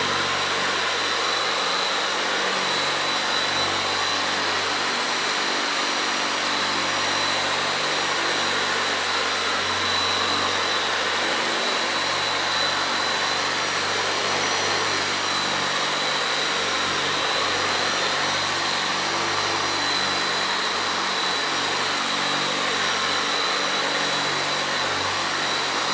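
A Cyclo carpet cleaning machine with a towel wrapped on its pad runs steadily on carpet, a loud, continuous motor whir with broadband hiss that holds level for the whole stretch, with no talking.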